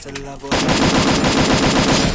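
Rapid automatic gunfire from the Free Fire mobile battle game, a loud continuous burst after a brief lead-in of game sound, dense and close with no pauses.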